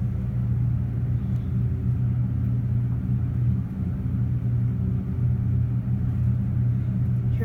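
Low, steady rumble of a Westinghouse Type A hydraulic elevator travelling between floors in a downtown Pittsburgh office tower, a continuous near hum with slight shudders.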